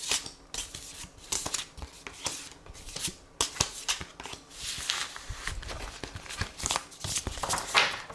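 Tarot cards shuffled by hand for a card reading, repeated close rustling and flicking bursts in an irregular rhythm across the whole stretch, moderately quiet and without speech.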